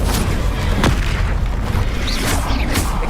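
An Incendio fire spell blast in Hogwarts Legacy, heard as loud booming, crackling bursts over a dense, steady roar of combat, with a few sharp swooshing hits.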